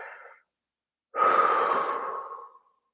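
A person takes one long, deep breath, a close airy rush lasting over a second after a short exhale and a moment of silence.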